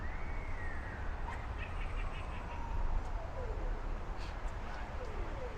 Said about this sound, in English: oh look, we've got a Halloween cat, guys